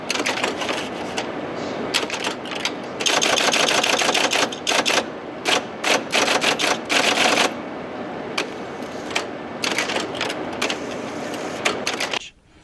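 An IBM 029 key punch machine types onto punched cards: rapid, loud mechanical clacking in bursts and runs with brief pauses, close by, ending abruptly near the finish.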